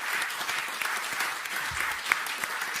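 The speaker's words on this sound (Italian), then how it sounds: "Facciamo sentire un applauso" Steady applause from an audience at a press conference presenting the 13th DigitalMeet, dense clapping sustained evenly throughout at moderate level with no break.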